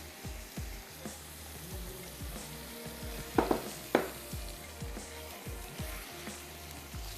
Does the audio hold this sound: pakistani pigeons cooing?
no